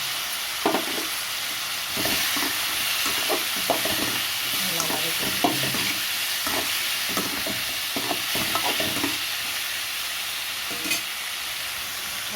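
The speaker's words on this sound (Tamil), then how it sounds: "நல்லா பச்சை வாசனை போகிற வரைக்கும் வதக்கி வச்சுக்கோங்க" Tomato and chili powder sautéed in a pan for a Tamil pea curry (pattani kulambu): a steady close sizzle with scattered stirring scrapes and clinks throughout, no talking.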